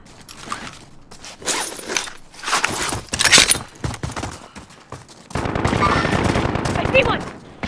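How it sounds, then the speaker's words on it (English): Automatic gunfire in Call of Duty: Modern Warfare comes in several rapid bursts, followed by a sustained stretch of sharp fire, loud and close with scattered clatter between the volleys. "I'm taking fire!"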